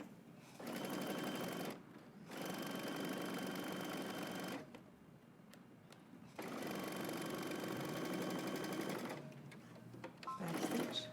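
A sewing machine sews elastic into the seam allowance of a dress with built-in power mesh, running in several sustained stretches of steady humming stitch rhythm broken by short stops, close and clear with no speech.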